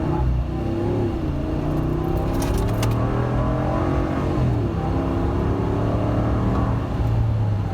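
A 2020 RAM 1500 Big Horn pickup with a 5.7 liter V8 launches hard, its deep engine roar climbing through the revs with gear shifts, loud and close from inside the cab, with a brief rattle early on and no talk.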